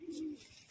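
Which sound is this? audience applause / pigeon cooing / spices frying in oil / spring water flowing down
pigeon cooing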